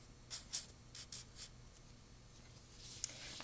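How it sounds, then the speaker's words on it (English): Pen writing a word on paper in a chemistry lesson, heard as a few short soft scratchy strokes, close and quiet, followed by a faint tap. "so we're going to write iron"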